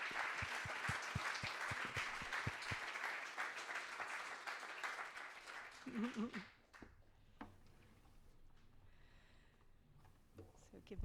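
At a Halloween salon concert, listeners give a full round of applause that carries steadily for several seconds and then cuts off, leaving a hushed room with some faint movement and murmuring.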